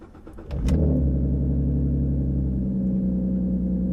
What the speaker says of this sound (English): I am going to start the car with the windows rolled up, because I want to show you guys how loud this car actually is.